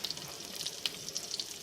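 Tomato paste sizzles gently in a pan while spaghetti is cooked village-style, a soft, steady crackle with scattered brief hisses and no voices.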